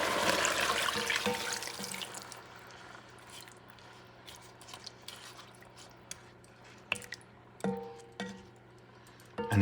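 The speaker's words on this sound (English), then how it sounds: "And now comes the broth." Broth pours into a pot of osso buco made with bison shank, white wine already added; a loud liquid rush at first that tapers into softer splashing and a few clinks, with no talking.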